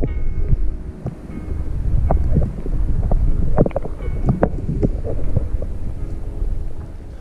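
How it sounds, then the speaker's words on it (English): Wind rising over a reservoir during a bass fishing outing, heard as loud buffeting gusts and rumble against the microphone, with scattered knocks and rattles from the boat and gear nearby. "Wind starts picking up."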